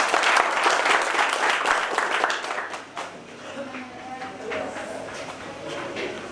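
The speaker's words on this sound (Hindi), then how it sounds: "इनके लिए मुझे लगता है कि तालियों से इनका स्वागत करना चाहिए" Audience applause welcoming guests at an encouragement ceremony in Srinagar, dense clapping that is strong at first and then fades after about three seconds, giving way to lighter scattered claps and murmuring voices.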